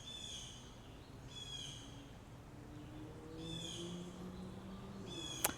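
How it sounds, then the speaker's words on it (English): Birds call outdoors on a Leesburg estate in repeated bursts, moderately distant, over a steady hiss of ambient noise, with a short sharp click near the end. "Hear the birds."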